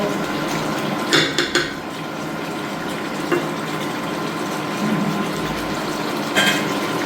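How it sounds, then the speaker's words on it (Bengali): A pot of chicken curry on the stove gets covered with its lid, a few sharp metallic clanks and clatters standing out over a steady background hiss. "আমি কিন্তু মাংসটাকে ঢাকা দিয়ে দিলাম।"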